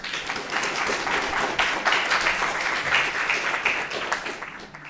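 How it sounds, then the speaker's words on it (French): Sustained applause from an audience at a high school eloquence competition, steady dense clapping filling the whole stretch at an even, fairly loud level. "une salve d'applaudissements pour ces 3 candidates"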